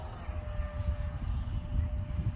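Arrows F-86 Sabre model jet flying overhead, a steady whooshing electric ducted-fan roar with a thin high whine, continuous and moderately near with no talk.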